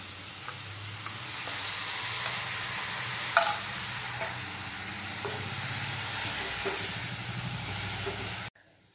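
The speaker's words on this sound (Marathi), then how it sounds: "नंतर चवीनुसार मीठ घालायचं आहे आणि 5 मिनिट ही व्यवस्थित परतून घ्यायची आहे" Washed dried shrimp stir-fried in a pan with spices for a Maharashtrian sukat chutney give a steady, close sizzle and hiss broken by occasional spatula scrapes, then stop abruptly at the end, with no one talking.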